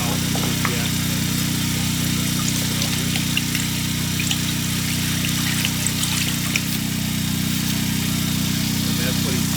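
Plastic-to-gasoline conversion machine pumping oil into a gas tank, a steady loud mechanical hum with low engine-like drone running throughout, small clicks and rattles on top, with speech mixed in.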